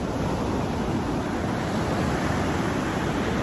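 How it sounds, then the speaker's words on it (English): Ocean waves, a continuous broad rushing wash of surf with no distinct breaks, steady and fairly quiet, heard alone without voices. "We're just going to listen to the waves."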